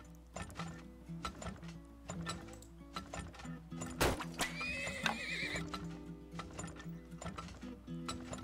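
In the video game Turmoil, a horse gives a loud whinny among repeated clip-clop hoofbeats and light mechanical ratcheting game sounds, up close and busy.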